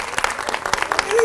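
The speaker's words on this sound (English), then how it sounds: "Yusuf, do you want an applause of everybody?" A short burst of clapping from a small group for a child in a feeding and swallowing course session, a few uneven claps close by with a voice speaking over them.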